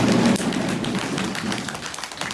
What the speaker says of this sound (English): And now we hear a little bit of thunder.